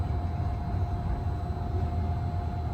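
Steady low rumble and rolling drone of the Disneyland Monorail Blue gliding along its track toward Tomorrowland, heard from inside the car, continuous and even with a faint tonal whine, no talking.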